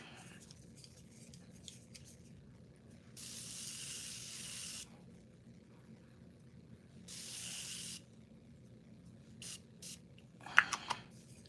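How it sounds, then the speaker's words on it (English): Morphe makeup setting spray misted onto a face in two long hissing bursts of about a second or more each, followed by a few quick short spritzes, close and clear over a low background hum. "I'm gonna go back in with my Morphe spray and I'm going to spray my face"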